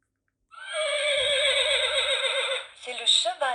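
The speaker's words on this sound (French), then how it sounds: "C'est le cheval qui hennit." A horse whinnies loudly and close by on a farm, one long quavering neigh lasting about two seconds that breaks into shorter shaky snorts at the end.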